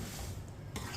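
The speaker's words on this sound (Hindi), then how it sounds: "अच्छी तरह मिक्स कर लेंगे।" Masala and four large-cut green chillies are mixed into mash dal in a pot, giving a short, quiet scraping stir with a faint clink of the spoon and no voices.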